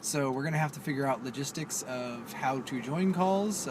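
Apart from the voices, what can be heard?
No distinct noise like a dog, phone or traffic.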